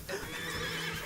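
A horse from the Afterimage video game lets out a loud, close whinny during a cutscene, a short sustained cry filling the moment with no talk.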